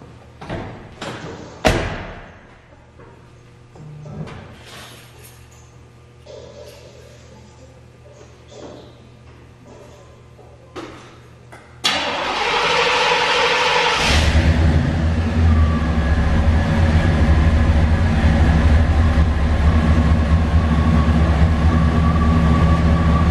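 A Chevy 305 5.0L V8 with dual exhaust and fresh plugs and wires is heard from up close. Scattered thumps and clicks come first, then the engine cranks and catches, settling into a loud, steady idle rumble.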